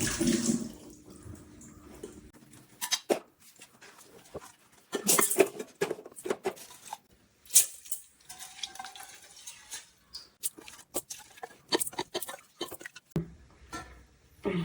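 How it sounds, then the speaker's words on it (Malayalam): Water is poured over sticky, cooked rice made in a rice cooker in a home kitchen, giving intermittent splashing and sloshing bursts with soft clatter between them, close by and fairly quiet. "അരി അങ്ങനെ കൊഴുത്ത് കയ്യിലൊക്കെ ഒട്ടിയിരിക്കുന്നു വെള്ളം ഒഴിച്ചു കൊടുക്കാമേ"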